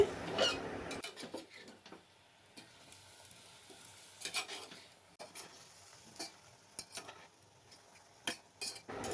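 Cumin, coriander and chili powder stirred with a little water in a pan give soft, intermittent scrapes and clinks of the utensil over a faint, low sizzle, quiet and close.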